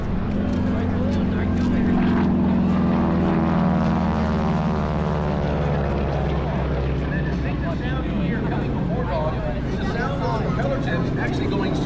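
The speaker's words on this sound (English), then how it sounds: "powered by a 600 horsepower Pratt & Whitney R1340 radial engine with a supercharger" A propeller aircraft with a 600-horsepower supercharged Pratt & Whitney R1340 radial engine roars loudly at an air show, a steady deep drone whose pitch slides as it passes, with a voice talking over it.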